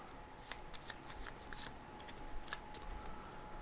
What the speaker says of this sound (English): So I can shuffle up the discard deck and draw something new instead.